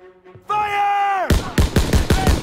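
Rapid gunfire in a World War II Call of Duty battle: after a sustained tone, a burst of about seven sharp, loud shots rings out in quick succession, close and punchy.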